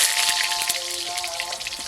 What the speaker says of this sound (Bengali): এবারে কড়া গরম হয়ে গেছে, আমি আলুটাকে আগে ভেজে নেব।